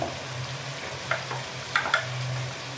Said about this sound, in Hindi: अब हम इसे अच्छे से हिलाएंगे।